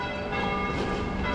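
Church bells ring continuously at a mountain hut on the Alta Via 2 trek in Valle d'Aosta, a dense, steady peal with sustained overlapping tones and no talking.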